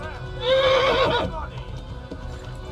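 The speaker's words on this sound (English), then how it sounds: "I love the horse sounds, man." A horse whinnies loudly in the medieval game Kingdom Come: Deliverance, with hooves clip-clopping beneath the call and a quieter rumble of hoofbeats carrying on after it fades.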